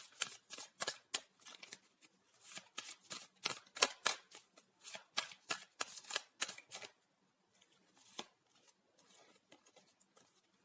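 Tarot cards are shuffled by hand in rapid, close riffling bursts that come in quick repeated flurries, then trail off into softer handling near the end.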